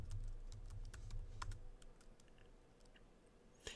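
Keys on a computer keyboard tapped in a quick irregular burst while a password is entered into a Mac terminal for an SSH login to a virtual machine, crisp near clicks with short pauses and a sharper clack at the end.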